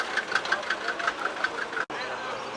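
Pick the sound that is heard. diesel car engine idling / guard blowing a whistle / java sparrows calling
diesel car engine idling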